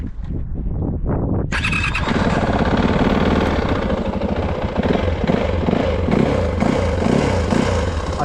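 An old dirt bike with the choke on cranks over a few times, then catches and starts, settling into a loud, steady, raspy idle close by.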